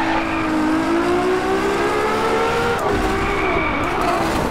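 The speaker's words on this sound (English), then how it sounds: "I love when this thing just hits red line. It sounds monstrous." A turbocharged car engine in the DriveClub racing game revs hard toward red line, a loud continuous roar with rising pitch, a brief shift dip and faint tire squeal.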